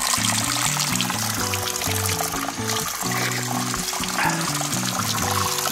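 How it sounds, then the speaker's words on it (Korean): Clean, cold spring water flows steadily from a mountain source on rural valley land, a continuous close pouring and trickling sound with no voices. "아주 깨끗하게 이렇게 물이 나옵니다."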